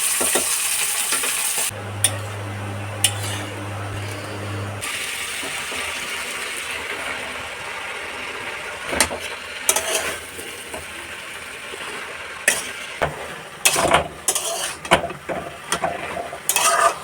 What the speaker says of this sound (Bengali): কুমড়ো আলু দিয়ে একটা লাউ শাক দিয়ে তরকারি করছি